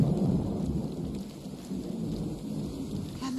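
Steady heavy rain falls with the low rumble of thunder rolling beneath it, a continuous thunderstorm wash heard without any voices.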